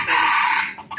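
A rooster crows loudly and close by in one strained, raspy call lasting about a second, the bird being one offered for trade between villagers.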